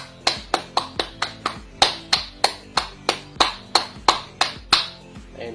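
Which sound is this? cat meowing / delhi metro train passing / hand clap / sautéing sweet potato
hand clap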